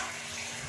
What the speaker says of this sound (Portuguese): Agora que vou jogar aqui um pouco de água nesse recipiente.